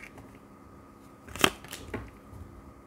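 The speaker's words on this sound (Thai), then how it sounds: "อาจารย์ขอเปิดไพ่ให้หมดก่อนนะ" Tarot cards laid out and turned over during a pick-a-card reading: a couple of sharp close card snaps and flicks over a quiet room background.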